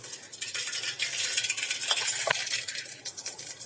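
Mustard seeds hit hot oil in a pan while tempering dhaba-style potato and fenugreek curry, giving a soft crackling sizzle with light scraping and stirring and a couple of small metallic taps, close up and without talking.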